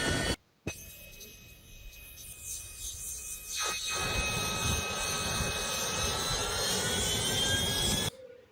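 KIZILELMA unmanned combat aircraft rolling through a taxi test, a steady loud jet engine whine with a sustained high tone, holding near and continuous after a brief cut at the start.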